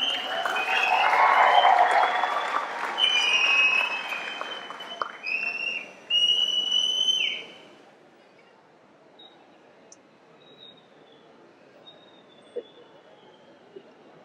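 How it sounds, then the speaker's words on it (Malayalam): A crowd at a Thrissur Magic FC jersey launch event applauds for actor Nivin Pauly, a loud burst of clapping and cheering for several seconds that fades out, leaving a quiet room with faint scattered sounds. "കൈയടി നമ്മുടെ നിവിന്"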